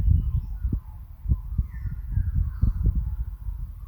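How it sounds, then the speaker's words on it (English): Crows cawing around a building site, loud repeated harsh calls in an irregular series over a steady low rumble of outdoor background noise. "The sound of the birds is more important."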